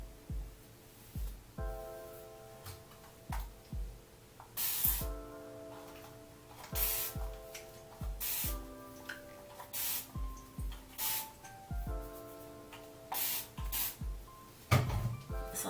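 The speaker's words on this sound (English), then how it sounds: "I'm just going to be separating my hair and then spraying down the length of my hair." A spray bottle mists down the length of hair during a microloc or sisterlock moisturizing routine, short close hissing spritzes repeating in an irregular rhythm, with soft rubbing and handling sounds between them.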